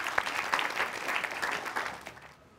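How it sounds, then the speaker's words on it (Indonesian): A seated audience at a mock debate on law and human rights applauds the panelists with a dense burst of clapping. It tapers off and drops to near silence in the final moments. "Boleh tepuk tangannya untuk panelis kita."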